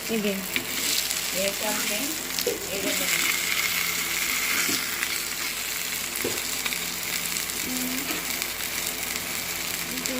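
Fish frying in a pan gives a continuous close sizzle and crackle that runs the whole length, with faint voices and a few light clinks underneath.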